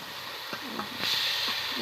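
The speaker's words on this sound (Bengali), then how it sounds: "নাড়াচাড়া করে ভালো করে মাখিয়ে আলুটাকে ভেজে নেব" Potatoes fry with salt in a pan as they are stirred and tossed, giving a steady soft sizzle broken by a few scraping stir knocks, heard up close with faint voice sounds in the background.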